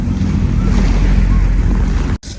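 Waves wash onto a beach on Kinaliada island near Istanbul in a loud, close rush, mixed with heavy wind buffeting before a brief drop at the end.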